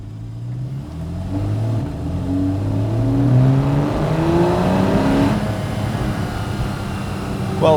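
A Porsche 911 Carrera S (991.1) with a PDK gearbox accelerates on a test drive, its engine rising in pitch through quick gear changes as a steady road roar builds. The sound is loud, close and continuous.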